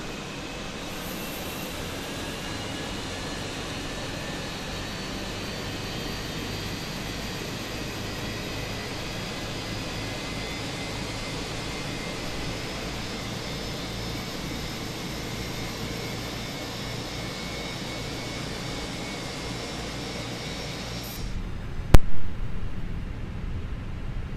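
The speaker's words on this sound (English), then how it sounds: "engine 1 is safe, stable, starting number 2 shortly" An Airbus A319 jet engine spins up in Microsoft Flight Simulator 2020 as a steady, even whining roar for about twenty seconds, then it cuts off abruptly with a brief knock.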